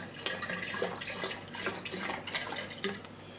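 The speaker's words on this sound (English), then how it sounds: "with the remnants of the last litre of apple juice, we just chuck that in there" Apple juice glugs and splashes as it pours from a litre container into a cider brewing vessel, an uneven liquid stream that is close and moderately loud, with no talk.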